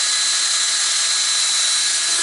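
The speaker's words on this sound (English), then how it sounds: "So I drill every so often." Drilling pilot holes into hard, straight-grained red oak door casing milled on a Woodmizer LT15 sawmill: a steady, continuous high-pitched whine that holds level and close throughout, with no talking.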